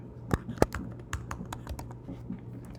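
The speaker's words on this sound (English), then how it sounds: "If I want to type someone's name," Typing on a computer keyboard in a quiet room: a few sharp, distinct keystrokes near the start, then a looser run of softer taps over a low steady hum.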